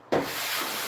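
A drywall trowel loaded with a little mud, pressed hard along a corner, gives a sharp scraping onset and then a steady broad rubbing swish that carries on alone.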